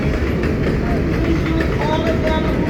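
An R188 7 local subway train, bound for Flushing Main Street, runs with a steady low rumble and faint squeals close by, a continuous ride noise without breaks.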